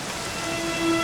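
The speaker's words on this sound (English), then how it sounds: "it was raining like this the last time I ever saw her" Rain in the video game Dragon Quest XI S pours steadily, an even hissing downpour with a faint tonal hum creeping in toward the end, no voices present.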